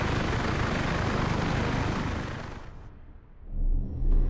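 Heavy, continuous helicopter rotor roar from the Warface game fills the scene loudly, then drops away abruptly and gives way to low rumbling thumps.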